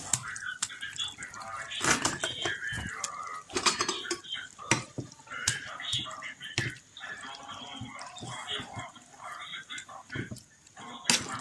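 Plantain purée being mashed and stirred in a cooking pot with garlic for a Congolese plantain stew, giving repeated clinks and scrapes of utensil on metal with wet squelches, close and busy, while a person talks over it.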